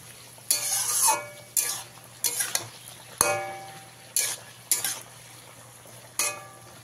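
Ridge gourd and potato being stirred in a pan for a Bengali posto dish, heard as repeated close scraping strokes of a utensil against the pan in uneven bursts over a steady low hum, with no talking.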